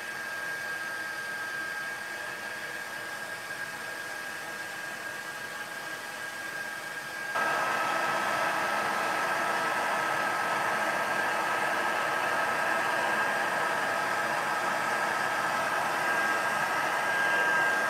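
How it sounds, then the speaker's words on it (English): Heat tool embossing a Christmas card, a steady whooshing blower hum with a thin whine that jumps noticeably louder partway through and stays loud and continuous, with no talk. "So I'm just gonna heat that with the heat tool, so it's gonna get loud."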